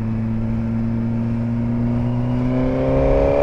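Suzuki GSX-R 1000 motorcycle engine with an Akrapovic exhaust, a sustained close engine drone whose pitch climbs steadily as the bike accelerates to overtake, loud and without talk.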